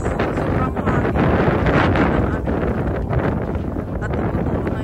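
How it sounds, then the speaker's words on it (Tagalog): Strong wind buffets the microphone at Lulworth Cove on the Jurassic Coast near Weymouth, a loud continuous roar and rumble that never lets up. "sobrang hangin"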